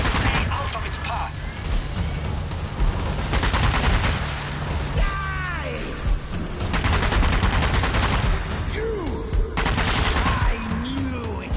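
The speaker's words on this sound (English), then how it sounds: "Machine gun fire." Machine gun fire in the zombie shooter game Zombie Army 4 rattles in dense, loud bursts with booming impacts, mixed with game sounds and voices speaking throughout.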